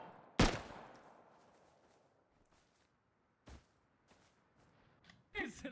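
Gunfire in the survival video game Rust: a sharp, loud shot near the start, then a few fainter shots spaced across a mostly quiet stretch, with a louder burst near the end.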